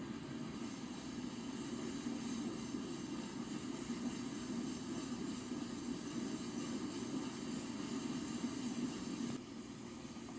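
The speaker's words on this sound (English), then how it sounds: "Yeah, this is a really long train, actually." Steady rumbling roar of a long freight train in a train simulator game rolling past, constant and continuous, with the sound dropping a little near the end.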